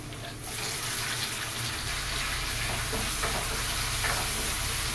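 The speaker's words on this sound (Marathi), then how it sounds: "आणि आता कांदा पण टाकू मस्त सरा तांबूस रंगावरती तळून घेऊ आपण टोमॅटो टाकून घेऊया" Chopped onion and tomato fry in hot oil in a pan for a Pune-style potato bhaji: a steady, loud sizzling hiss bursts in after a brief quieter start and keeps crackling evenly throughout, with no voices.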